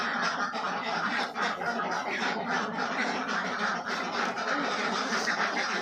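A dense, constant chatter of many ducks fills a duck farm, with overlapping quacks and calls heard close and loud throughout.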